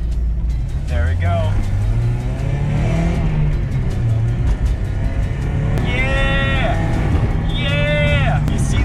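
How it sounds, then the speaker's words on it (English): A 1991 Mazda Miata with a manual gearbox pulling away in first gear, its engine droning and revving steadily under loud talk, with pitch rising and falling as it accelerates. "So first step to driving manual, you put it in first gear."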